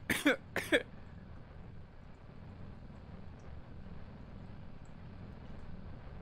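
Two sharp coughs from a nearby person at the very start, then quiet room hiss with a low steady hum for the rest.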